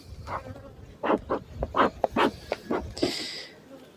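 Honey bees buzz around an open hive during frame handling, a close, uneven insect hum with short bursts and brief louder swells, and no speech over it.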